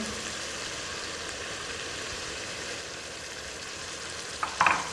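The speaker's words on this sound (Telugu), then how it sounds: "ఇలా ఈ కొబ్బరిని కూడా నూనెలో వేసి మంచి రంగు వచ్చేంత వరకు వేయించండి." Dry coconut powder frying in hot oil with browned mutton in a pan, a steady close sizzle with stirring, and a brief louder scrape near the end; no voices.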